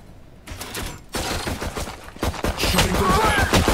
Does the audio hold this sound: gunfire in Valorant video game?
yes